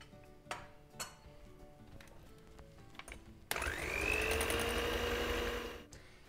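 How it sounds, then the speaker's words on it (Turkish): Cake batter is whisked after buttermilk goes in: a few sharp clinks and taps against a bowl, then a steady, louder whirring churn that runs for a couple of seconds before stopping. "Tamamını ekliyorum arkadaşlar ve çırpmaya devam ediyorum"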